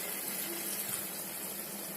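About half a cup of water pours into a kadhai of dhaba-style chicken gravy, a short, steady, close rush of liquid at moderate volume.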